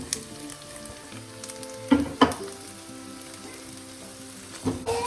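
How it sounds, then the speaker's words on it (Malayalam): Mixed vegetables sizzle and crackle steadily in a hot frying pan as they are stirred, with a few sharper scraping knocks from the spoon, for an egg vegetable rice dish; no one speaks. "ഫ്രൈ ചെയ്ത് സൈഡിലോട്ട് മാറ്റി വെച്ചിട്ട് നമുക്ക് മിക്സഡ് വെജിറ്റബിൾ ചേർക്കാം."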